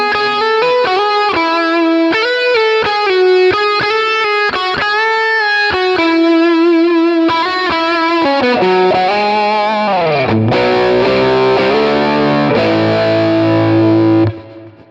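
Electric guitar through a preset on a Quad Cortex modeller with AC30 amp models, dual delay and reverb: a loud, distorted melodic line of bright sustained notes and quick runs, ending on a long held note that cuts off.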